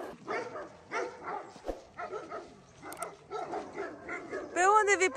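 Several dogs bark and yip close by in a yard, in repeated bursts mixed with people talking, ending in a high whining cry.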